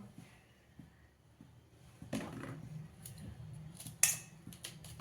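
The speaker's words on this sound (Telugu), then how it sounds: "నేనైతే టూ పీసెస్ చేసుకుంటున్నాను మీడియం సైజ్ బెండకాయలు తీసుకున్నాను" Medium-sized okra (bendakaya) being cut into pieces with a knife in a home kitchen, a few soft scattered chops followed by louder crisp cuts near the end, with a quiet room hum underneath.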